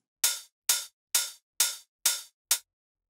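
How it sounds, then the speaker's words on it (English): Six open hi-hat hits layered with a sharper transient hit, programmed for UK garage house drums, each a bright crisp burst with a short decaying tail, evenly spaced in a steady offbeat rhythm, close and alone. "The open hi-hat sounds like this, and it's actually layered with this more transient hit."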